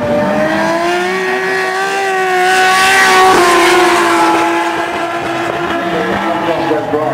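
Race cars at a drifting circuit in Australia slide through a right-hand corner, engines droning and revving with rising pitch under a roar of tire noise, heard at a moderate distance in a continuous sweep.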